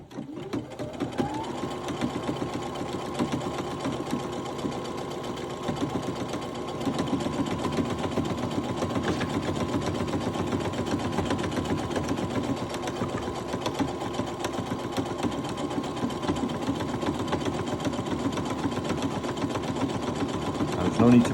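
A Brother Innovis 15 sewing machine stitches a buttonhole at about half speed, running steadily and close for the whole stretch. A voice talks now and then over the even mechanical whir.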